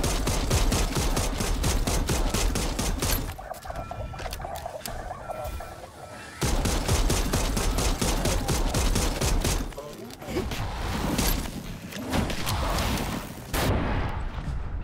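Pistol gunfire in the zombie video game Dead Island 2: rapid, loud shots fire in long close bursts. Brief pauses break the bursts, and scattered game noise can be heard between them.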